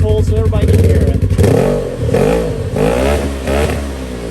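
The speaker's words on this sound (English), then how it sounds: "Go ahead and rev that thing up, Cole, so everybody can hear it." A UTV engine fitted with an MBRP slip-on exhaust revs hard several times, the exhaust rising and falling in loud, throaty bursts close by, with a voice briefly underneath.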